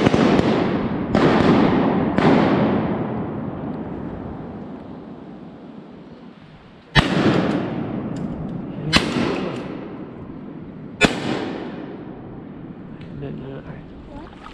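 Shotguns fire during a public-land wood duck hunt, with several sharp, loud, nearby blasts spread irregularly across the stretch. Each one is followed by a long fading echo, and someone speaks briefly near the end.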